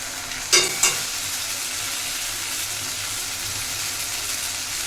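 Chicken frying in a pan with Kashmiri chili powder, a steady dense sizzle throughout, with two quick scraping stirs near the start, close and fairly loud.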